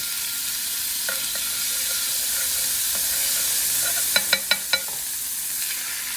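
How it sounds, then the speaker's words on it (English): Lard and strained pork consommé sizzle steadily in a hot pan while being stirred. A few sharp clinks of the utensil against the pan come close together near the end, and no one speaks. "I have the lard and some consommé that's been strained. I'm going to stir that up"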